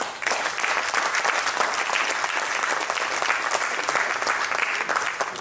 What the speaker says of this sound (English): we have to give him a special round of applause